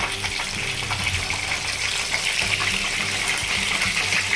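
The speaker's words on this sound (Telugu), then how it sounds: "ఫ్లేమ్ సిమ్లో పెట్టి 10 మినిట్స్ అలా వేయించుతాను" Chicken pieces deep-frying in oil for KFC-style fried chicken on a low flame, a steady close bubbling sizzle that holds constant throughout with no talk.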